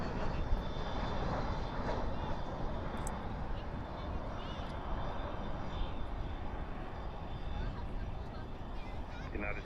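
An Airbus A321 touching down at night at Dallas/Fort Worth airport with spoilers up and thrust reversers out, making a loud, steady, broad jet roar that holds without a break for the whole stretch.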